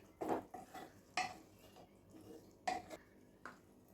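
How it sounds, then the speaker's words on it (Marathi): Carrot halwa stirred in a pan with a spoon, a series of soft scraping knocks against the metal at an uneven pace, fairly quiet and close. "एकदा परत हलवून घ्यायचं व्यवस्थित"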